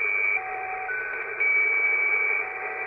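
Steady electronic tones of the squeaky wheel radio signal near 3.8 kHz, with several stacked whistles and a very weak fourth tone among them, continuous and alone with no voices.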